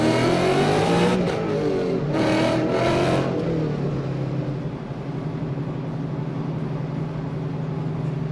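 An American muscle car engine revs close by with a deep, throbbing note, rising through a few sharp blips in the first three seconds before settling into a steady, rumbling idle.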